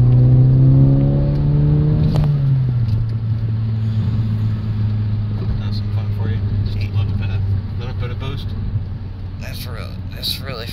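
A Ford car pulls hard in third gear, engine note climbing steadily before a shift-like drop, then a sustained droning rumble and road noise with scattered clicks, heard from inside the cabin.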